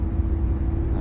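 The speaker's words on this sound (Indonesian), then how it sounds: "itu suara raungan mesinnya itu lumayan berasa kenceng" A steady, loud low rumble from an M-Trans bus engine roaring beneath the back seat, droning continuously with no break and no voices.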